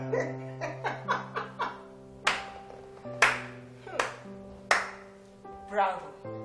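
About nine slow, uneven hand claps, sharp and close, ring out in a dramatic film scene over a soft sustained musical tone. The claps come one at a time with gaps between them.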